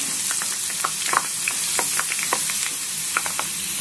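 Herbs and fenugreek seeds fry in oil for a homemade herbal hair oil, giving a steady close sizzle with scattered crackles and pops, no voices.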